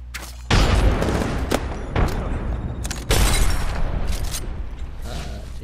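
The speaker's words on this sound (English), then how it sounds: "Frag out! Grenade out!" Grenade blasts and gunfire in Apex Legends, several loud, close booming impacts with crackling shots over a constant rumbling background, the heaviest hits arriving near the start and about three seconds in.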